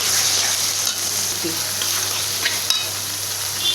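Browned onions and lentils fry in a pan with a loud, steady close-up sizzle, plus a few soft stirring knocks and a low steady hum beneath.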